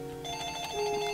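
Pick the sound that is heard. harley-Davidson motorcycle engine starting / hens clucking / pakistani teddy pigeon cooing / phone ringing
phone ringing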